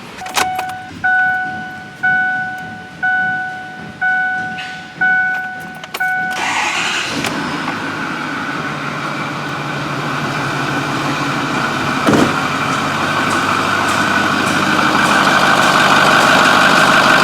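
A 2009 Ford F-450 with the 6.4 L diesel cranks through several rhythmic starter chimes and beeps, then fires and settles into a loud, steady clattering idle that swells slightly over time, with no talking.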